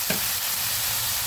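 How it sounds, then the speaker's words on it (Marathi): Moong dal fries in hot oil with garlic and chili, a steady close sizzle and hiss throughout, with one small tap or stir at the start. "ते सुद्धा अशी परतू द्यायची. त्या तेलात चांगली फ्राय करायची."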